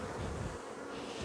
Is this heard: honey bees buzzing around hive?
yes